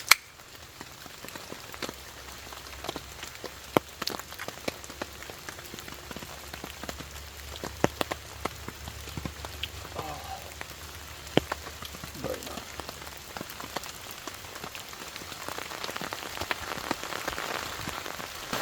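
During a thunderstorm, heavy rain patters steadily on the fabric of an ultralight camping shelter, dense and close with sharper individual drops tapping throughout and growing a little louder toward the end.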